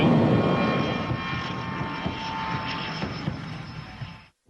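A spy plane comes in to land, its jet engine producing a steady broad roar that stays loud and even, then cuts off abruptly at the end.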